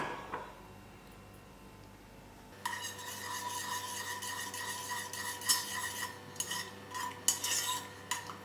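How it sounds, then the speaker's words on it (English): A spoon scrapes and stirs through a sweet and sour fig mixture in a cooking pot, with close, irregular metallic clinks and rubbing that start after a quiet opening and continue unevenly. "You have to keep stirring till it comes to a boil."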